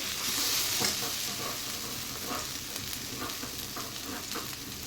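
Spice paste sizzles in hot oil with fried onions as filling for stuffed teasel gourd, a steady close crackle broken by the scrape of stirring, with no talking.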